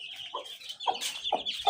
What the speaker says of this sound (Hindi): ये देखें मुर्गे